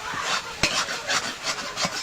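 Bottle gourd and prawns being stir-fried in a pan, a spatula giving repeated rhythmic scraping strokes over a light sizzle, close and fairly loud, with no speech.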